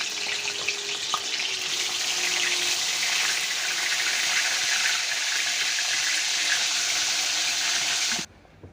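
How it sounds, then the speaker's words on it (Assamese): Fish frying in mustard oil, a steady broadband sizzle holding evenly loud and close for about eight seconds, then cutting off abruptly. "এয়া মাছ ফ্ৰাই কৰিবলৈ তেল দিছোঁ"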